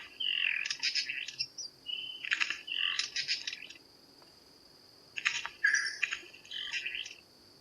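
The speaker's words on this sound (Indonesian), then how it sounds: "Di Pegunungan Arfak ini ada satu jenis burung pintar, yaitu Vogelkop bowerbird." Birdsong in the forest of the Arfak Mountains: a clear, loud, varied series of chirps and whistles comes in two bursts with a short pause between, over a faint steady insect hum.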